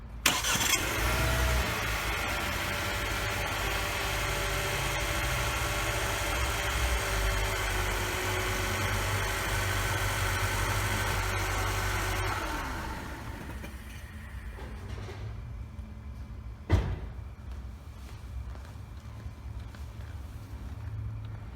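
A Renault Korea XM3 starts up and idles with a steady mechanical hum, its active grille shutter closing in front of the radiator; the running noise drops away midway, followed by a single sharp click and quieter residual hum.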